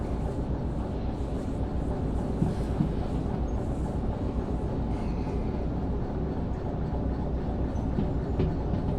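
Train rolling steadily along rails in the Derail Valley game, slowing to about 20 km/h into a yard; a continuous loud rumble with wheel clatter throughout, no talking.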